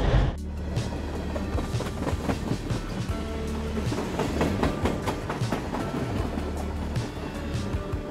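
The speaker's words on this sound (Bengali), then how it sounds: "সান্তাহার জংশনে এসে দাঁড়াতে না দাঁড়াতে আর একটা ট্রেন চলে এলো" An express train bound for Khulna via Chilahati pulls into Santahar junction, its steady rumble and clattering wheels on the rails continuing loudly throughout with no talk.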